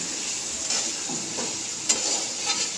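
Prawns frying in a pan alongside bottle gourd greens, a steady close sizzle with a few soft stirring scrapes and brief clinks, no voices.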